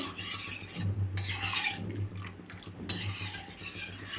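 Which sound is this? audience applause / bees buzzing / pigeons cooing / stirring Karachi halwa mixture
stirring Karachi halwa mixture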